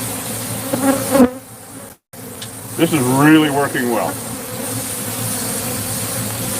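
Bees trapped against indoor windows buzz steadily as a low droning hum, while a person talks over them at close range.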